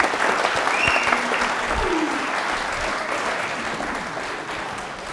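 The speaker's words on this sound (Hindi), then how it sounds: "तालियां बजा दीजिए जोरदार वाली" A studio audience on a televised quiz show claps steadily after a correct answer, the applause loud and sustained, then slowly fading over several seconds.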